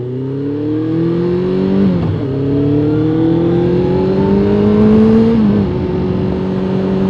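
A Suzuki GSX 600 motorcycle engine revs loud and close, climbing steadily in pitch through the gears with a short dip at each shift, and no voices.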